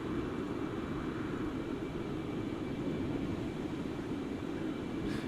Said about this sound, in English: Some of the noises coming from this airplane.